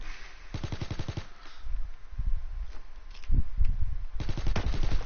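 Bursts of automatic gunfire from a World War II shooter game (Call of Duty WWII) fighting enemy soldiers, with rapid rattling volleys at the start and end and heavier single shots and impacts between them, loud and up close.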